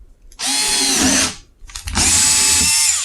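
Two loud, close bursts of a power drill boring through a plastic container, each a steady high whine lasting about a second, separated by a short pause and rattle between holes.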